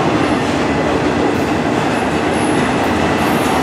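Freight train cars rolling past close by at a slowing speed, a loud continuous rumble of wheels and rattling cars with faint high squeals, no talk.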